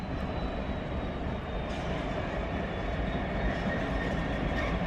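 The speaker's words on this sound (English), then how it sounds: "here we have a freight with tankers on" A short freight train with tanker wagons passes near Doncaster, a steady loud rumble and rolling clatter throughout, close and continuous with no talk.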